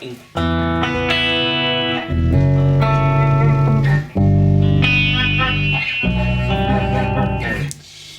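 An electric guitar played through an octave pedal sounds out sustained chords and notes carrying a deep doubled tone an octave below, loud and close, with each chord ringing for a second or two.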